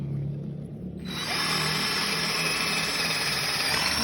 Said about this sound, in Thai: เริ่มเจาะปูนให้ดูเลย